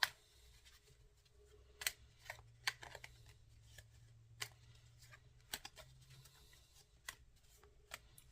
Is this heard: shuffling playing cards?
yes